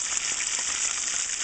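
Beer-battered cod fries in hot oil with a dense, steady sizzle and crackle, close and continuous.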